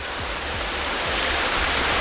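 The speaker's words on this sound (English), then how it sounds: "You can hear the sound, background sound," Steady roar of a waterfall at a zoo park in Qatar, heard from a bridge with several falls on both sides, a loud continuous broadband rush of falling water with no talk over it.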